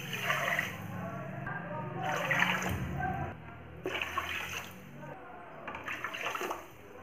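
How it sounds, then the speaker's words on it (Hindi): Several bowls of water poured into a kadhai of sugar on a gas stove to make syrup for sponge rasgulla, giving a close splashing rush that comes in repeated bursts with short pauses between them. "अब हम इसी कटोरी से इसमें 4 या 5 कटोरी पानी डालेंगे।"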